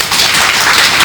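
Audience in a hall clapping together at a Malayalam religious birthday celebration, a steady dense wash of applause lasting the whole moment with no voices over it.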